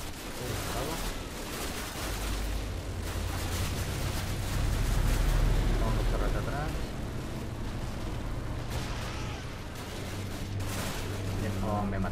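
Mortar and gunfire explosions from Call of Duty 1 boom and crackle continuously, heavy low rumbling blasts with scattered sharp shots, while someone talks over the combat.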